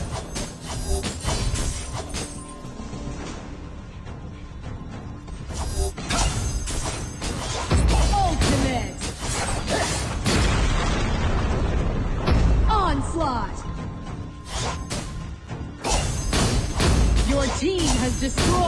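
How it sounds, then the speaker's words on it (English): Tower destruction in the Arena of Valor mobile game, heavy booming explosions and bursts layered with game effects and an announcer voice, loud and dense throughout. "Destroyed a tower."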